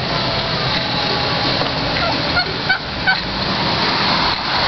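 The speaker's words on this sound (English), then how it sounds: "Just walking around, there's turkeys all over the place." Several short gobbling calls from wild turkeys ring out over steady outdoor traffic rumble on Staten Island, fairly close but mixed into the background noise.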